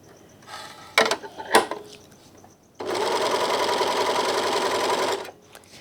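A Janome 644D serger/overlocker with its cutter engaged makes a couple of sharp mechanical clicks and knocks, then runs steadily for about two and a half seconds with a close, loud, even whirring hum before stopping.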